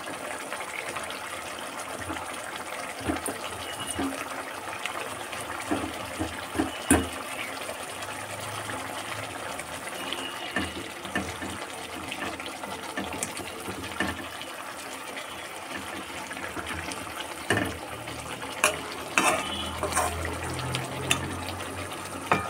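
Water is poured into a pot of Bengali fish and potato curry, making a soft, continuous splashing trickle at moderate distance with occasional faint clinks.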